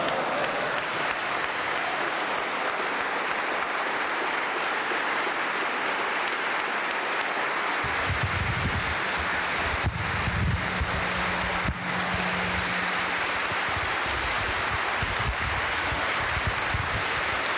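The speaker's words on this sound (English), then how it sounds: "Let's give him a warm round of applause, the Honorable Louis Farrakhan." Audience applause after a religious address at an evening gathering, a steady broad wash of clapping throughout, swelling fuller from the middle with low crowd rumble and faint voices.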